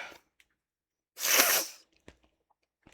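One sharp human sneeze in a quiet room, a short burst in the middle with faint small clicks and rustles before and after.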